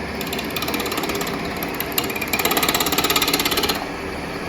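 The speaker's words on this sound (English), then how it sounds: "Then it's a case of making little bevel rubbing cuts going in." Short bevel rubbing cuts on a wooden ring and jewelry holder, a steady dense scraping texture that grows louder and more rhythmic in the second half, close up with no talking.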